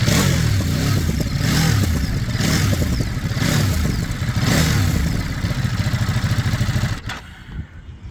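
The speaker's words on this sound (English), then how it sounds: "So that is how it idles." A 2024 Ducati Monster 937 SP motorcycle engine runs steadily and loudly close by, a rough pulsing throb with light clatter, then cuts off abruptly near the end.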